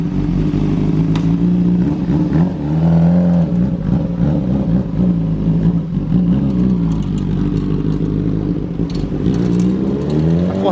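A 600R motorcycle fitted with a GRS Racing exhaust runs loud and close, its engine note rising and falling through repeated revs over a steady idle, with no talking.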